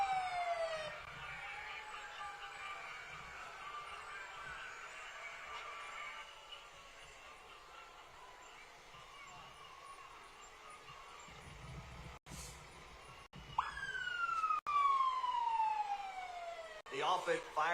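Fire engine 1361 from Carter Lake wails its siren at an Independence Day parade in Ralston, with falling sweeps early on and rising and falling wails near the end, all over steady crowd noise and an announcer's voice.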